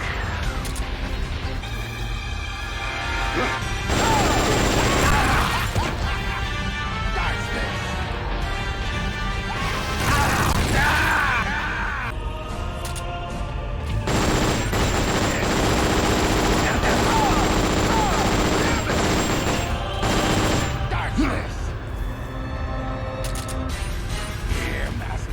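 Missile explosions and gunfire in the Metal Gear Solid: Portable Ops boss fight against Gene, loud and dense crashing blasts in repeated bursts with rapid fire, almost continuous throughout.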